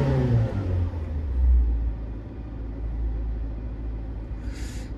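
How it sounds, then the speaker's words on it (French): A Fiat Panda 4x4 engine revs as the accelerator is pressed, a steady low rumbling drone that swells briefly and then holds, heard close with no talking. "Pourtant j'accélère."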